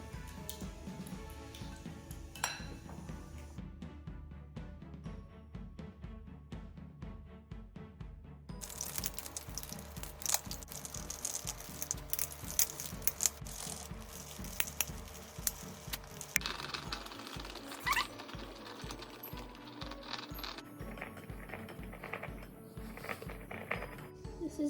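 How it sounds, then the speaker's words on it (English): Egg whites are whisked by hand in a bowl, a fast steady ticking and clinking of the whisk repeating throughout, close and moderately quiet, with little or no talking. "you're gonna whisk your egg whites until it's a nice white bubbly paste"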